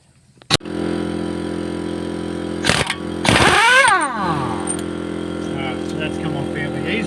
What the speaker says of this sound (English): I've got a rattle gun and an air compressor.